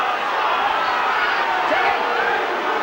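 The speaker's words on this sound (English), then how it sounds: "The crowd getting on the back of the referee" A rugby league crowd at the 2009 St Helens v Bradford match jeers the referee, a dense, steady roar of many voices that stays loud throughout with no clear breaks.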